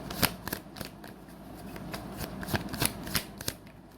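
Tarot cards being shuffled by hand, a series of crisp riffling flicks and soft slaps at an irregular rhythm, close and moderately quiet with no talking.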